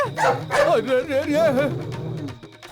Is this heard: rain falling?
no